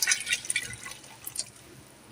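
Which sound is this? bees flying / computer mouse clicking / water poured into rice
water poured into rice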